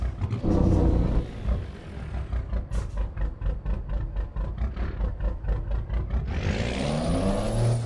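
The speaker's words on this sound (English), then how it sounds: "this truck's got the big, I think it's a Cummins 1000 horsepower Lope" Video game truck with a Cummins 1000 horsepower engine and lope idle, a deep lumpy rumble that pulses rhythmically after an initial rev, then swells again into a rising roar near the end.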